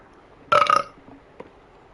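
A single loud close burp, rough and throaty for about half a second, then a faint brief hiccup-like noise afterwards in a quiet room.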